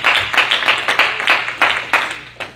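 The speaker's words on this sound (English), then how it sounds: "clap your hands" A church congregation at a youth worship service claps hands in a steady, quick rhythm, a few sharp claps per second blending into a bright, lively patter.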